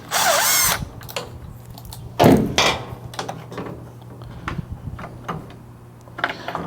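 A power tool drives Torx T25 bolts into a Ford Bronco grille, opening with a loud whirring burst, then a second burst after a pause, followed by quieter clicks and handling noises.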